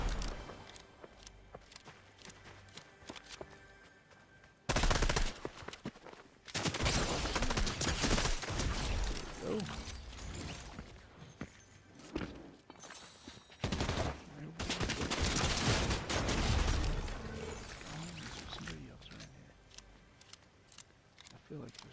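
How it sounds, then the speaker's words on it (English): Gunfire in the Fortnite video game, with loud bursts of shots and clusters of rapid blasts separated by quieter stretches with footsteps, while a player talks over it. "I'm going to try to get rid of people with the shotgun."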